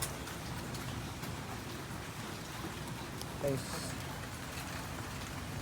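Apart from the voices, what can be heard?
rain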